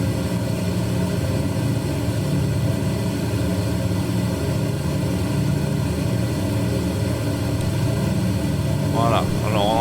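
Lockheed Electra 10A twin-engine propeller plane flying near Le Bourget in a flight simulator, engines humming as a steady, dense drone throughout, with someone speaking over it.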